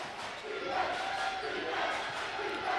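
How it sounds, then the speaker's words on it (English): A loud, roaring crowd in an echoing gym fills the whole clip, a dense wash of cheering and shouting with no break. "Copper Hills having to deal with a tremendous amount of noise from that Miner student section"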